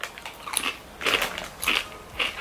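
Crisp, dry bites and crunches into cheese-flavoured snack crisps, four distinct crunchy bursts spaced about half a second apart, close and fairly loud, with no talk.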